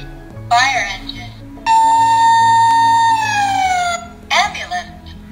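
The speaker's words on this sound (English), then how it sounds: "Fire engine." A toy book's fire engine siren wails in a long steady electronic tone, bracketed by short bursts of chirpy synthesized sound before and after.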